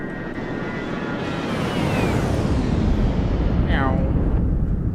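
Simulated engines of a Ryanair Boeing 737 in Microsoft Flight Simulator give a loud, continuous jet roar that swells and grows denser partway through, with whining tones sliding downward over the broadband rumble.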